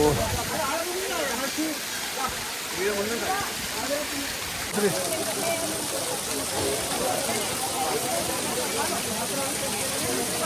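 Water gushes from the 108 stone water spouts in Mustang, Nepal, a dense, constant splashing rush at close range, with a person talking over the steady flow.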